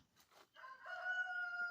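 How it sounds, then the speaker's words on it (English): A black Australorp rooster crows once, fairly close, its drawn-out tonal call rising after a couple of faint rustles and holding steady to the end. "We have several black Australorp chickens."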